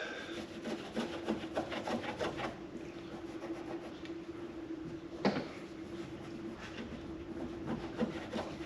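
Rubbing and scrubbing while cleaning an area on a Ford Fiesta ST, with steady close scraping strokes in a brief rhythmic run and one sharp knock partway through.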